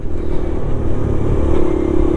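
A Suzuki VanVan motorcycle with its fat rear tyre idles close by, a steady low engine rumble with light mechanical clatter holding level throughout.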